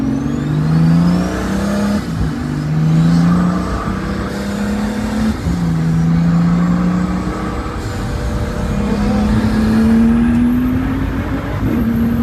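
A Pagani Huayra BC Roadster, rear-wheel drive, pulls hard at full power on a bumpy road near Modena. The loud engine note climbs steadily, then breaks at each gear change and climbs again, with no talking over it.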